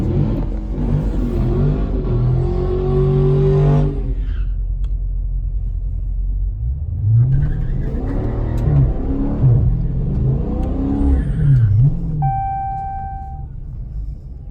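A Dodge Challenger Scat Pack launches at a drag strip using launch control, its engine revving loudly then roaring through rising gear pulls nearby, with a rumbling idle between.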